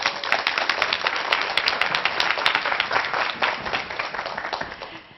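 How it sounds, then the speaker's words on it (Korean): Audience applause at a TV lecture event welcomes a speaker to the stage. A dense, steady wash of many hands clapping fills the room and holds for several seconds before it starts to taper off. "우리 임현주 대표님을 큰 박수로 모시겠습니다."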